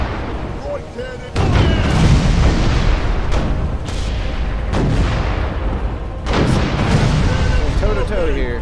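Cannon volleys boom from a warship in a naval battle game, several loud, close blasts with rolling tails arriving in rough bursts, mixed with game noise and someone talking.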